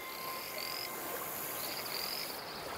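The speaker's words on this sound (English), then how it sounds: "Gradually spreading across the country, these poisonous frogs are lethal to many species that make the mistake of eating them" Poisonous invasive frogs, apparently cane toads spreading through freshwater habitat, croak and trill in a dense continuous chorus, a few nearer individual calls rising above the steady mass of voices.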